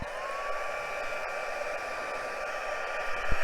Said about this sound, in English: Let me pop it real quickly with my heat gun.